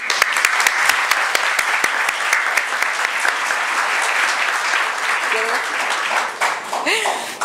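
An audience applauds at a solemn ceremony of the Academia Dominicana de la Historia marking an anniversary of the Restoration War, loud, dense clapping that starts sharp and fades out while voices begin to talk near the end.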